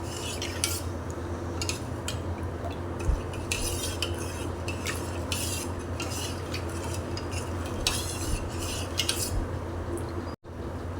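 A spoon stirs milk in a pot after cardamom and nutmeg powder go in, with repeated metallic scrapes and clinks over a low steady background hiss, close and fairly quiet.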